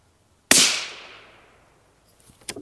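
A Ruger Precision Rimfire rifle fires a single 17 HMR 17 grain round, a sharp, loud crack with a decaying ring-out, followed by a few faint clicks.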